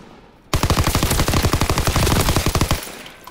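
Automatic gunfire in a shooter video game cuts in suddenly as a rapid, loud, close burst of rounds at an even fast rate, running for about two seconds before stopping and fading out.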